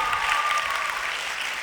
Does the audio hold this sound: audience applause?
yes